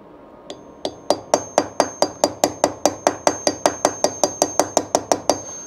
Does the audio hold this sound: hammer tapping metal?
yes